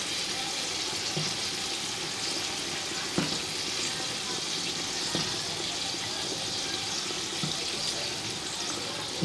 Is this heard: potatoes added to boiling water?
yes